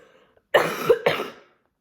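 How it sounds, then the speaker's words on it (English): Two quick, close coughs from one person, the second following after a brief pause, in an otherwise quiet room. "Excuse my cough."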